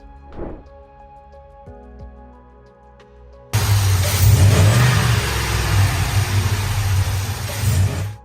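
A Ford 7.3-liter V8 pickup truck engine roars to life after a quiet moment, revving hard with a deep, throaty rumble that stays loud and close.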